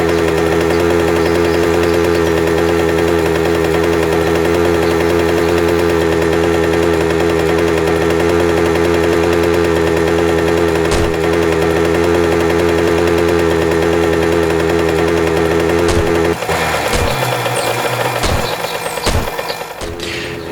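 Small mini bike engine droning loud and steady while riding home, a constant buzzing harmonic hum that shifts and roughens near the end as the ride goes downhill over bumps.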